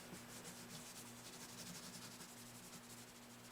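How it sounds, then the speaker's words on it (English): Linseed oil is rubbed lightly across the grain of a Simon Patrick acoustic guitar's wooden bridge with a cloth, a faint, steady, continuous rubbing hiss over a low background hum. "Light application, rubbing across the grain there."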